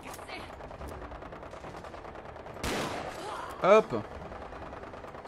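Gunfire from a weapon in Fallout 4 comes as a sharp burst of shots followed by a brief crack, under a low rumbling backdrop with a man's short exclamation.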